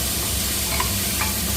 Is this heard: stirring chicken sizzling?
yes